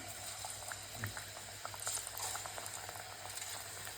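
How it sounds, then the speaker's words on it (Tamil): Steady bubbling sizzle of sliced Nendran banana chips frying in hot oil over low heat, with scattered small pops and crackles throughout, close and continuous. "அடுப்பை சிம்மில் வச்சு தான் நம்ம பொரிக்கிறோம்"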